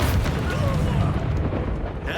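A Confringo blasting spell explodes in Hogwarts Legacy combat: a loud, dense, rumbling boom that fills the whole moment and decays slowly.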